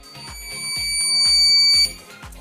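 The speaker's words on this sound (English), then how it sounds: "you will hear a beep sound just like this" A homemade door alarm buzzer wired to a switch beeps in a steady, fast repeating pattern, loud and close, with no talk over it.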